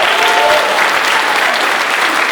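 Audience applause with scattered cheers at a school band winter concert, a dense steady wash of clapping filling the hall for a couple of seconds.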